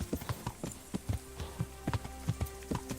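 In the video game Kingdom Come: Deliverance, a ridden horse's hooves clip-clop in a steady walking rhythm, crisp and fairly faint.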